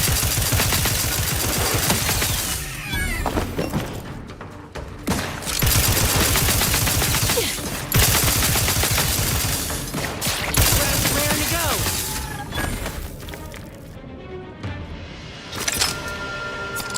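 Weapon gunfire in a space shooter game, long bursts of dense rapid fire with brief pauses between them, loud and close, with a voice talking over parts of it.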